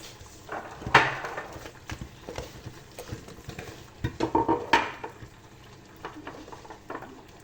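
Flour being worked into pizza dough by hand, with soft irregular scrapes, pats and squishes of dough against a bowl, louder bursts around the middle, close up and without talk.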